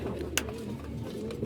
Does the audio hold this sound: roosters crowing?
no